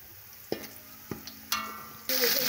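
Onions, meat and spices fry in a pan for beef yakhni pulao. A few sharp stirring clanks break a soft sizzle, which swells into a louder, steady hiss near the end.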